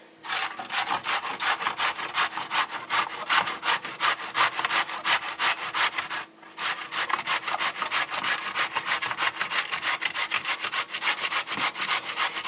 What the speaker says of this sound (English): we're going to get our box grater and we're going to grate it